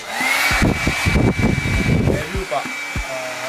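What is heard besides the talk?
small hair dryer blowing on barbecue to light it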